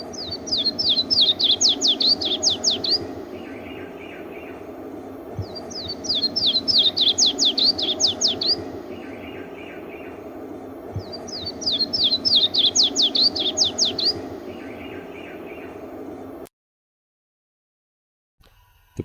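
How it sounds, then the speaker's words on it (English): Yellow-throated warbler song on Spring Island woodland: three clear, bright descending phrases of rapid notes, each ending in a short lower flourish, sung about every five seconds over soft background hiss before the sound cuts out. "The cadence of the song of the yellow-throated warbler is distinctive."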